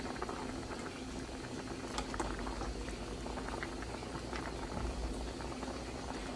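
Potatoes bubble away in a pot of boiling water, a steady close rolling boil with dense popping bubbles and no talk.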